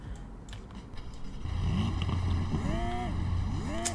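Ken Block's Hoonipigasus car starts up in Roblox Drive World. A low engine drone builds and then holds steady, with whining, wavering tones rising and falling above it, fairly loud and close.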